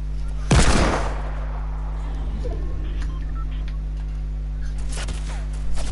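A single sharp Fortnite gunshot bursts out early, followed by a low steady hum and faint clicks, with another shot at the very end.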